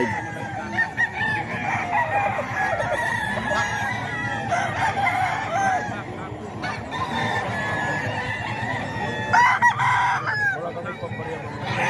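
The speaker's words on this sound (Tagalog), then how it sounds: "isa sa mga manok to ni Kuya Batang" Roosters crow repeatedly nearby amid clucking chickens, with faint talk and farmyard background noise.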